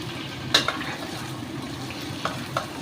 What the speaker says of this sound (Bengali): সব ভাজা হচ্ছে একসাথে,